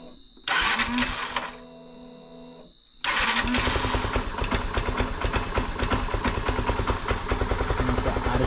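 A Yamaha FZS V3 motorcycle engine, just after a throttle body cleaning, cranks briefly, pauses with a low hum, then fires and settles into a loud, steady, close idle with a rapid rhythmic throb.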